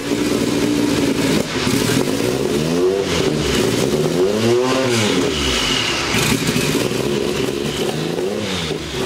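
A Porsche 962 Group C race car engine revs hard at a night event at the Porsche Museum, loud and close, rising and falling through several sweeping revs over a constant roar.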